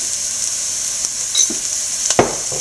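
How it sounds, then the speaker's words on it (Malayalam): Onion, green chilli, ginger and curry leaves frying in a pan, a steady high sizzle with a few soft stirring scrapes near the end, no voices. "സവോളയും പച്ചമുളകും ഇഞ്ചിയും കറിവേപ്പിലയും നല്ലപോലെ വഴന്നിട്ടുണ്ട്"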